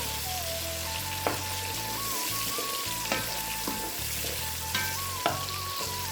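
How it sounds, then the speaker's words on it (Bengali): Fish and onions fry in a pan for a Bengali cauliflower and fish dish, with a steady, close sizzle throughout and occasional sharper crackles and stirring clinks. "এই যে মাছগুলো ভেজে নেওয়া হচ্ছে পেঁয়াজ ভেজে নিচ্ছি"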